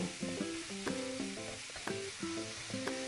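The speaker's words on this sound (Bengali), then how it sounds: "টমেটোটাকে যতক্ষণ না নরম হচ্ছে ততক্ষণ কষিয়ে নেব" Chopped tomatoes and onion fry in a pan over a gas flame for a fish curry, a soft steady sizzle running under background music.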